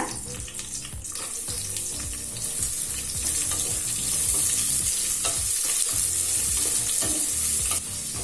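Two large onions, added after mint, fry in a pan for chana biryani with a loud, continuous sizzle and occasional stirring scrapes close by, with no talking.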